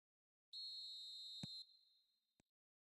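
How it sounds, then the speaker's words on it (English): A referee's whistle in an eFootball match sounds as one sustained, bright, piercing blast lasting about a second. A sharp thump cuts through it midway, and a faint tail and a short click follow after it. "There's the whistle."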